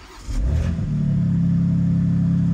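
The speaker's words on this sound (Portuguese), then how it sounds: "Seis cilindros em linha faz um barulho bonito." The inline six-cylinder engine of a BMW X4 M Competition cranks briefly and catches, settling into a steady, smooth low rumble up close with no one speaking.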